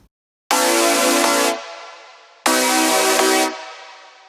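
Two sustained chords in a progression played through a normal reverb send, each lasting about a second before a long, fading wash of reverb tail rings on after it, loud and close.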